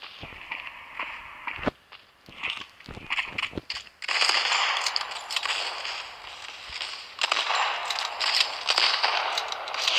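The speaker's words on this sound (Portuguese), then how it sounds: "Olha aqui quando atira." Sniper rifle fire in a multiplayer shooter game: several sharp, cracking shots come in bursts over steady game ambience, some close together, with a dense noisy stretch in the second half.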